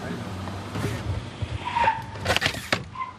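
A car peeling out for a film stunt, with tire squeal rising over engine roar and bursts of crowd noise, people talking nearby amid the commotion.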